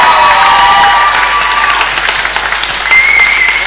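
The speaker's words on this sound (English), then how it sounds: "I think everyone deserves a round of applause" Comedy club audience at a comedian of the year contest breaks into loud, dense applause, sustained and close, with a few faint whoops from the crowd.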